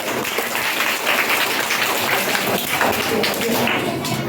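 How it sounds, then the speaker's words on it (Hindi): Audience applause on a quiz show, a steady wash of clapping filling the room for a contestant who answered correctly, lasting throughout at moderate loudness. "प्रतीक वर्मा के लिए जोरदार ताली होनी चाहिए"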